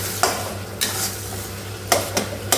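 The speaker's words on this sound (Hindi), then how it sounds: "मसाला जो है लगभग भून चुका है। और मैं इसको 1-2 मिनट यहाँ पे भूनूँगी" Spice paste for a paneer dish frying in a pan, with a low steady sizzle and a handful of sharp clinks and scrapes from a spoon stirring against the metal, heard up close with no talking.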